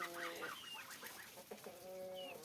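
Several chickens cluck and chatter close by, short overlapping calls in quick succession.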